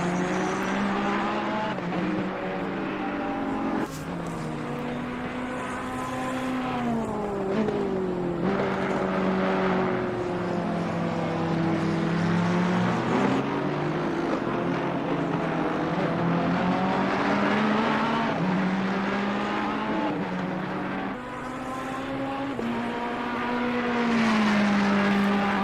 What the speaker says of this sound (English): This was the Ferrari heading out.